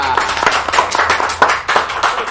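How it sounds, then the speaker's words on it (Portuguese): An audience claps for the school director during a presentation: loud, dense clapping fills the whole moment, with voices mixed in. "os aplausos para nossa diretora Larissa de Sá."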